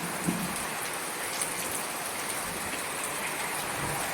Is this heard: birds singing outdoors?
no